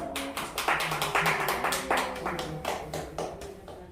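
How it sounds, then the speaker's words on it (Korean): Church congregation clapping their hands during a sermon, a run of scattered, uneven claps over about four seconds with a roomy, mid-distance feel and some background voices. "박수 소리가 다시 한번 칩니다"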